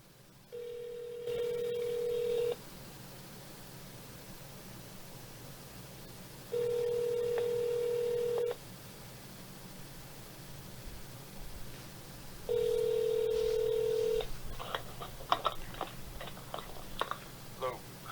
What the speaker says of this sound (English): Let me jingle his phone real quick and find out.